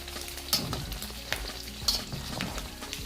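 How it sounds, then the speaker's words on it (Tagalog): Pork fat frying in oil over a low flame, a continuous gentle sizzle broken by scraping stirs and a couple of sharp utensil clinks against the pan. "we're going to lower the flame and cook it for at least 10 minutes until the oil completely separates from our pork fat"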